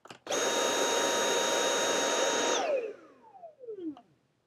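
A Dyson V8 cordless vacuum cleaner runs in standard mode, switching on with a loud, steady high-pitched whine that holds for a couple of seconds and then spins down with a falling tone.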